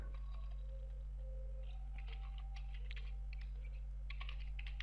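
Someone types a command on a computer keyboard, a run of quick, light key clicks in small irregular bursts over a steady low electrical hum, with no talking.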